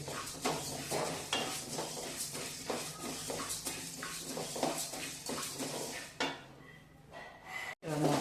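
Coriander seeds are dry-roasted in a pan, with rhythmic dry scraping and rattling as they are stirred. Near the end the stirring fades and a soft metallic clunk follows.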